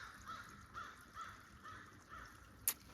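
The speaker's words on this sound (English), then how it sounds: "My crows are calling an alarm." Crows caw in a steady series of alarm calls from a short distance, several harsh repeated caws spaced across the stretch, with a brief sharp higher sound near the end.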